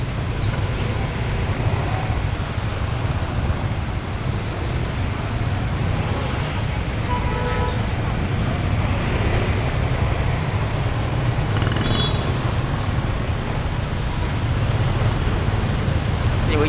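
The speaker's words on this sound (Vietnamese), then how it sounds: "Kẹt xe luôn cả nhà ơi." A traffic jam on a busy road in Thu Duc, Ho Chi Minh City, heading toward Binh Trieu bridge, produces a constant dense roar of engines and road noise with no break.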